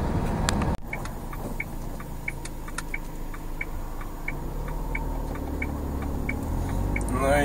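A van engine runs steadily while driving, a continuous low drone inside the cab with a regular ticking, likely a turn signal, and a sharp knock near the start.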